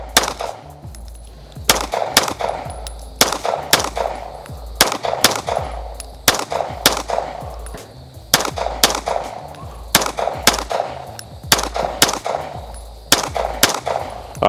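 A handgun fitted with a red dot sight fires at reactive targets in a run of loud, sharp, close shots at an uneven, fairly quick pace, with brief pauses between short strings.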